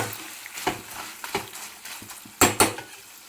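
A spoon stirs salt through pulihora (tamarind rice) in a metal pan, giving irregular close clinks and scrapes, with two louder clanks near the end and no voices.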